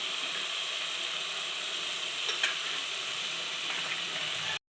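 Mushrooms and grated coconut frying in a masala base, giving a steady, even sizzle that holds at low level throughout before cutting off abruptly at the end.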